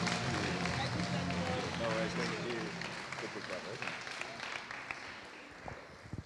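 An audience claps and cheers in a sustained burst of applause, with scattered voices mixed in, fading slightly toward the end.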